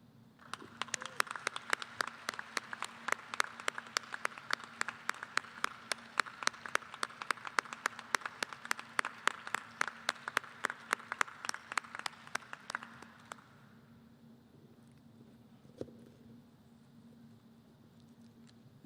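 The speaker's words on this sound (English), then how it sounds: "give them the applause that they deserve for today" Graduation hooding ceremony audience applauding families, a dense steady burst of many hands clapping for about thirteen seconds before fading into quiet room tone.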